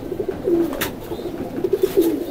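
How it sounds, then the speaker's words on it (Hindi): Soft, low coos of a Sialkoti Lal highflyer pigeon come in two short bursts, close by, with faint background noise between them. "ये हमारे उस्ताद के घर की कबूतरी है"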